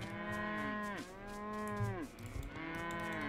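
Cows in the video game Wobbly Life give three long, drawn-out moos, loud and close, one after another with no talking over them.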